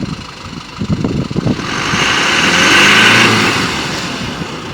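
A car engine cranks and catches, then settles into a steady, close idle with a faint swell in the middle, heard alone on a mountain trip toward Rohtang Pass near Manali.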